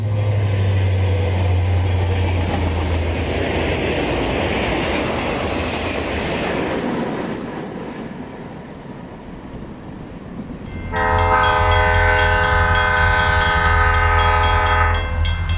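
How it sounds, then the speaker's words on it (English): A Santa Fe steel train heads east through Holt, its wheels rumbling and clattering steadily before dipping briefly, then a loud, sustained chord horn sounds over the renewed engine roar. "The steel train heads east through Holt."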